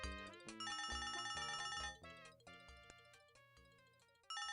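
A telephone rings in the Leisure Suit Larry 1 video game, a bright electronic ring with sustained tones and several repeated chimes, fairly quiet and with no voices.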